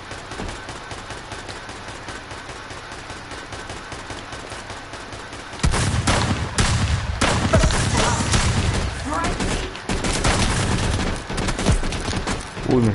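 Gunfire in a battle royale video game: after a quieter stretch of faint rattling, loud bursts of rapid shots break out and keep firing in dense volleys, with a voice briefly heard among them.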